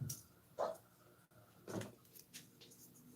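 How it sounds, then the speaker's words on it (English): A dog barks faintly somewhere in the background, giving a few short, muffled barks at uneven intervals. "that's my dog in the background"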